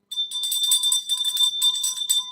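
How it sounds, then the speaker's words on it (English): A bell rings rapidly and continuously for about two seconds, bright and close, with quick repeated strikes blending into a steady ringing tone. "I had to ring a bell"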